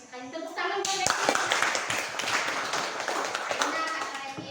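A classroom of children claps together for a classmate, a dense burst of hand claps that starts sharply about a second in and carries on steadily at close range, with a voice heard over the start.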